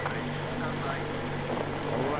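A boat engine in the video game Metro Exodus runs with a steady low, throbbing hum, continuous and moderately loud, with voices talking over it.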